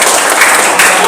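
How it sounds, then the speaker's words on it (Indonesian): Classroom applause from a group of students after a group presentation in an Islamic religious education lesson, dense steady clapping with a couple of louder swells, brief and fairly loud. "Tepuk tangan sebelumnya."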